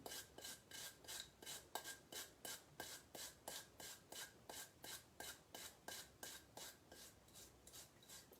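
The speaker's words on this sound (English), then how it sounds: "Now we will use our porcelain grater to grate this in." Spice is grated on a porcelain grater for a Moroccan chicken tagine in a steady, even rhythm of close, rasping strokes. Each scrape repeats about twice a second with no talking.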